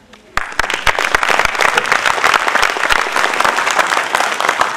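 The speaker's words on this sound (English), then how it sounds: "Another clap." A lecture audience breaks into applause, starting abruptly after a quiet moment and then holding as loud, dense clapping from many hands in a hall.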